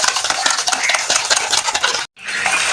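Eggs beaten with salt and sugar, a fast, loud, continuous rhythmic whisking of utensil against bowl, close up, with a brief pause near the end before it resumes.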